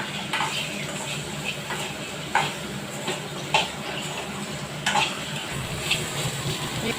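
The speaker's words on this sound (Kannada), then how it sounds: "ಈಗ ನೋಡ್ರಿ ಇದು ಚೆನ್ನಾಗಿ ಫ್ರೈ ಆಗ್ತಿದೆ" Vegetables frying in a home kitchen pan, a steady soft sizzle with occasional light clinks of a spoon or utensil against the pan, close and moderately quiet.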